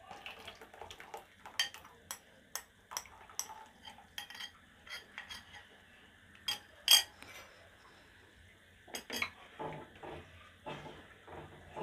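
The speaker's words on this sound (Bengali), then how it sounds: "একটু নেড়ে চেড়ে নিব" A spoon stirs a shahi firni mixture with mawa, cashew paste and saffron in a pot, giving a run of irregular clinks and scrapes, close and moderately loud, with brief pauses between strokes.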